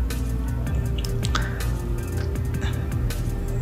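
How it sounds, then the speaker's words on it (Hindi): Green chili and ginger paste goes into a flour fritter batter with soft wet squishing and dripping sounds, close up over a steady low background hum. "अब हम इसमें सब्ज़ मिर्च और अदरक का पेस्ट जो है वह हमने तैयार किया हुआ वो ऐड कर लेंगे"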